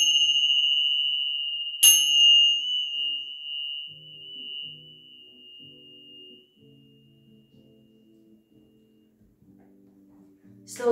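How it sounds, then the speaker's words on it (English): Bells rung during a hatha yoga session: a clear high ding sustains and fades, a second strike rings out, then soft low tones hum until a final bright strike at the end. "Let your mind, your body, and your soul absorb the vibrations of the bells"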